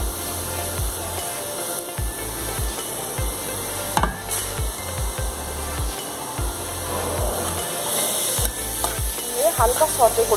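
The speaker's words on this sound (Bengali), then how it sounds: "হালকা সটে করে নেবেন, পুরো খুব ভাজবেন না, হালকা ভাজা ভাজা হবে।" Baby corn and capsicum sautéing lightly in a pan, with a steady sizzle and repeated low scraping strokes of stirring, close and fairly loud throughout.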